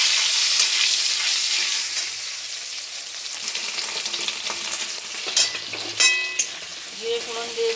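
Onion and tomato frying in oil tempered with cumin seeds make a steady, close sizzle with occasional stirring scrapes and utensil clinks, continuing throughout.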